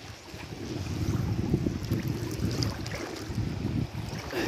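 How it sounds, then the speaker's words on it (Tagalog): Strong wind roars and buffets the microphone continuously while shore casting, a steady low rumble with gusty swells and no voices. "Medyo malakas yung hangin."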